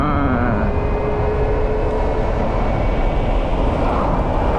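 A 2000W mid-drive electric motorbike pulling away in first gear, a continuous loud whirring drone with rising motor whine and heavy wind rush across the whole stretch, no talking.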